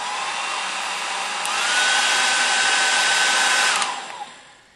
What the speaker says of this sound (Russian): Фен работает с новой силой.